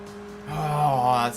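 A Mercedes race car engine in Enthusia Professional Racing roars through a tunnel, its pitch climbing in a smooth rev over a low hum, loud and close for just over a second.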